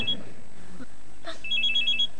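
A mobile phone rings with short, bright electronic tones, a quick burst at the start and a repeating pulse near the end. Faint rustling fills the gap between them.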